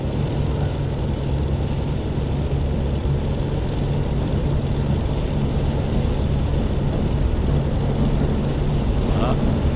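Messerschmitt Me 109 engine at full takeoff power in the DCS flight simulator, a loud, steady propeller and engine drone running without a break for the whole stretch.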